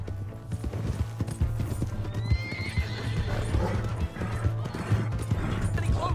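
Horse hooves pounding in a steady gallop in the Red Dead Redemption 2 video game, near and continuous, with a clear whinny partway through, over a low ambient hum.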